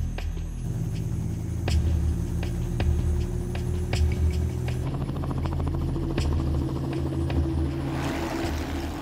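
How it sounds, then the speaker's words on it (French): A helicopter taking off, its engine and rotor chop thrumming steadily nearby, with rhythmic blade beats over a low rumble, then a rising whoosh near the end. "L'hélicoptère et le vétérinaire partent pour leur 3e rotation."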